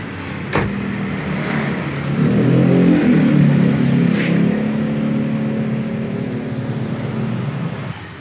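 A Kia Rio 2014 with a 1.4L engine idles, then revs up to a louder rumble in the middle and settles back toward idle, heard close by the car.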